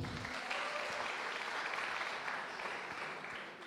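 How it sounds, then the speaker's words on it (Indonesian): A crowd applauds at a youth speaking competition final, a continuous, fairly faint clapping that holds steady and then tapers slightly at the end. "Bisa minta tepuk tangannya teman-teman?"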